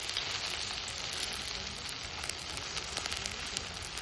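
Helencha greens fritters crackle and sizzle as they fry in hot oil, a constant bright hiss with small pops scattered through it, close and alone without talk.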